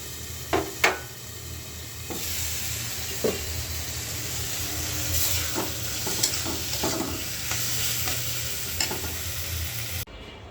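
Spice paste sautéing in a pan for a foli fish curry, a continuous close sizzle with occasional spoon scrapes and clinks scattered throughout, without speech.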